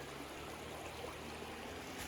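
A creek flowing beneath stone formations in Hawn Park, a soft, steady rushing wash of water heard faintly and continuously from a short distance.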